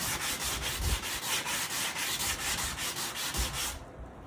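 Sandpaper scrubs rhythmically back and forth across a wooden front door being stripped of old varnish, a close, steady series of about a dozen rasping strokes that ends abruptly.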